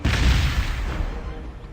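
A regular grenade explodes in the strategy game Gladius: Relics of War, a loud low boom at the start that rolls off into a fading rumble.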